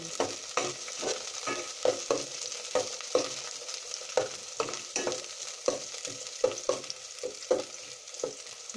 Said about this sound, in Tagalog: gisa muna natin yung bawang